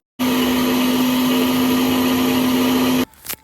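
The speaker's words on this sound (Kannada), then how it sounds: "ಮತ್ತು ಅದೇ ಜಾರ್ಗೆ ಸ್ವಲ್ಪ ತೆಂಗಿನಕಾಯಿ ತುರಿ, ಕಡಲೆ, ಗಸಗಸೆ, 1-2 ಟೊಮೊಟೊ, ಖಾರದ ಪುಡಿ ಮತ್ತು ಧನಿಯಾ ಪುಡಿ ಇಷ್ಟು ಹಾಕ್ಕೊಂಡು ಚೆನ್ನಾಗಿ ರುಬ್ಕೊಳ್ಬೇಕು" A mixer grinder grinds grated coconut, gram, poppy seeds, tomato, chili powder and coriander powder into masala with a loud, steady motor whine for about three seconds, then cuts off into a few faint clatters.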